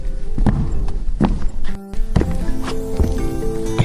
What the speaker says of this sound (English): Suddenly, he heard soft footsteps.